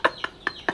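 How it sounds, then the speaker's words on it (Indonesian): Chicken clucking in short bursts, four distinct clucks spaced evenly, fairly close and clear with no talk over them. "Ayam."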